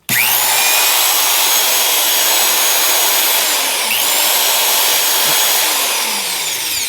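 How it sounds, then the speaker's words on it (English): Vintage Milwaukee 0801-2 quarter-inch 240V corded electric drill, single-speed, running steadily at full speed with a loud whining motor hum throughout, free-running and close by. "I'll just run it here first"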